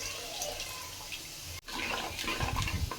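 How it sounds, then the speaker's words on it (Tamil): Water is poured from a rinsed blender jar into a pot of tamarind-based curry leaf curry, a steady watery splash that briefly cuts out and then returns louder and fuller, with no talk over it. "ஜாரை கழுவி ஊற்றிக்கிறேன்"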